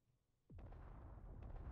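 A ship's cannons fire in the space-combat video game Space Engineers: one sharp blast with a quick falling whine, then a dense, loud, continuous roar and rumble of fire that swells slightly and carries on to the end.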